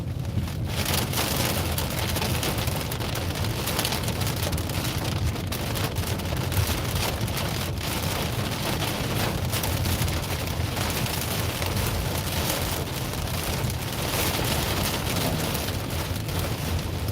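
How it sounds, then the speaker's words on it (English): Heavy raindrops pour down steadily and loudly, a dense continuous patter drumming on a surface close by with no pauses and no voices. "you hear them big raindrops coming down"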